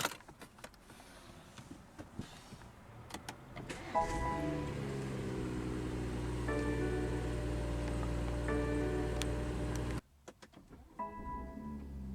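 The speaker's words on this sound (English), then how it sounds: "let's go ahead and start the engine" A 2017 BMW 540i xDrive M Sport engine cranks by push-button start and catches about four seconds in, then settles into a steady idle hum; earlier there are faint interior clicks and rustles.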